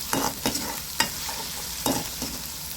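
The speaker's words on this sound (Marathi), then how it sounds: "जिरं मोहरी छान तळून घ्यायची आणि त्याच्यामध्ये हा लसूण आणि अद्रक घेतलेले ते टाकायचं" Cumin, mustard seeds, garlic and ginger fry in hot oil in a home village kitchen, a steady soft sizzle broken by several sharp stirring scrapes and clanks of a spoon against the pan, close and fairly quiet with no talking.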